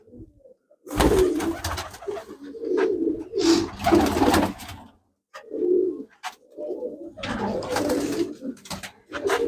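Pure Gurdev pigeons coo in repeated throaty bursts close by, with short pauses between phrases and a few sharper wing or perch noises mixed in.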